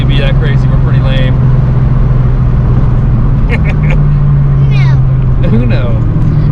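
A 1986 Mustang GT on a test drive gives a steady, close engine drone that holds throughout, with people talking over it now and then.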